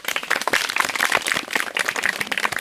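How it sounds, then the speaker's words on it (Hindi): A group of children clap loudly and rapidly together at an outdoor forest-camp session about a forest produce centre, a dense, continuous patter of hand claps lasting a few seconds with no talk. "चलो जोरदार ताली एक बार।"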